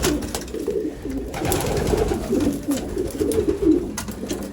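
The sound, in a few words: racing pigeon cock bird cooing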